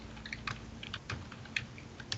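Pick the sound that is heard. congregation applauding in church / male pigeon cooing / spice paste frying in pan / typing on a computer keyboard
typing on a computer keyboard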